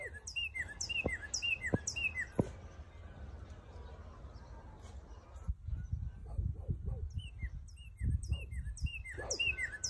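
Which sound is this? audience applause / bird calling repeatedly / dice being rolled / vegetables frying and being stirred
bird calling repeatedly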